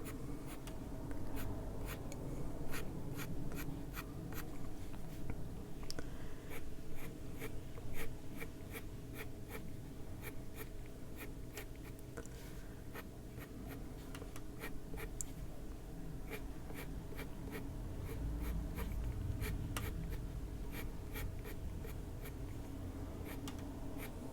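A colored pencil scratches and scrubs across paper in close, quiet, continuous strokes with a rapid rhythmic texture over a low background hum, with no voices present.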